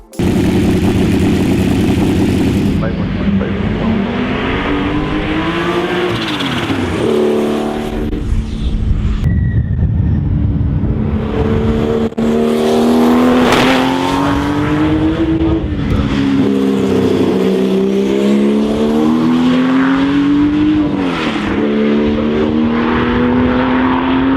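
A Porsche race car engine from the 1978 Le Mans class-winning era revs loud and close in Need for Speed: Porsche Unleashed, its rising and falling pitch sweeping through gear changes with a dip near eight seconds, continuous for the whole stretch.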